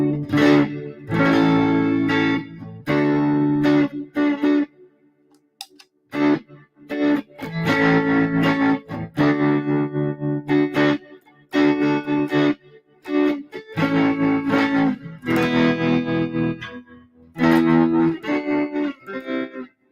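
An electric guitar played through an amp with an effects pedal rings out in bursts of chords and riffs separated by short pauses, loud and close, with no talk.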